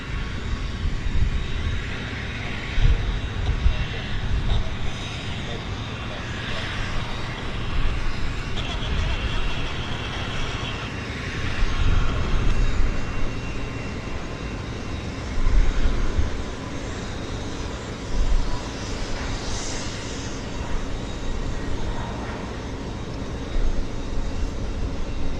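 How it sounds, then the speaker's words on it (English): An aircraft at Vancouver Airport rumbles steadily through a long stretch, a broad low engine roar with swelling and easing passages, heard at some distance while people talk intermittently. "We'll wait for the aircraft right about there, and then I'll zoom in."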